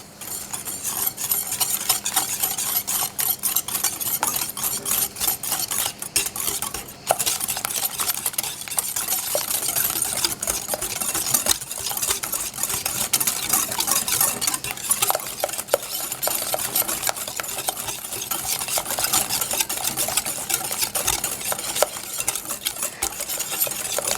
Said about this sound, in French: nous allons mélanger jusqu'à ce que ça mousse